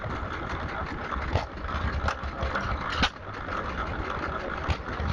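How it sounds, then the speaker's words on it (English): An International hit-and-miss stationary engine runs at a steam rally with a low, steady chug, broken by a few sharp periodic thumps over outdoor background noise. "Lovely international hit and miss engine"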